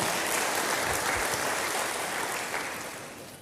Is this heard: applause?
yes